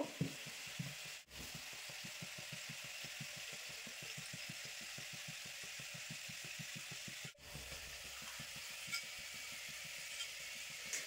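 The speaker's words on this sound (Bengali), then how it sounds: "ওই সাইডে ভাজা হতে থাকে" Oil sizzles and crackles steadily as nimki, a crisp rolled-dough snack, fries in a pan, a continuous dense hiss with a couple of brief dips.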